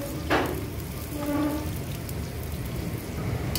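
Onions and chicken fry in a pan for a Nepali chicken pickle, a steady close-up crackle and hiss with faint clinks, and no one talking.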